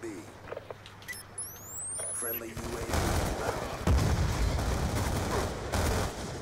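Chicom submachine gun fire in Call of Duty: Black Ops 2, with the first part quieter before dense, sustained rapid shots take over for the rest, mixed with other battle noise.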